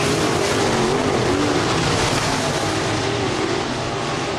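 Race cars roaring around the oval at Northwest Florida Speedway in Baker, Florida, a continuous loud engine drone with a shifting whine as the field runs down the back straightaway into turns three and four.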